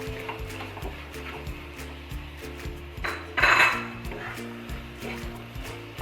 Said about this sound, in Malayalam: എന്നിട്ട് നന്നായിട്ട് തന്നെ മിക്സ് ചെയ്തെടുക്കണം.